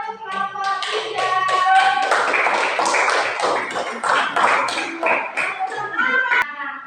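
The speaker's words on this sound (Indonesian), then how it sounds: "beri tepuk tangan untuk kelompok 3" Classroom applause for group 3: a burst of hand clapping from a group of students, close and lively, building quickly and continuing for several seconds before ending abruptly, with a few voices mixed in.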